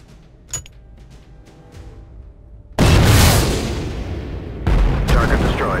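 A sudden heavy blast roars in and rumbles on, then a second loud burst follows, as a target is destroyed in the Drones 3 combat game after a quieter stretch with a few faint clicks.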